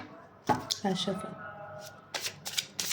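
Tarot cards are shuffled in short, crisp riffling bursts close to the mic, with a voice speaking between them.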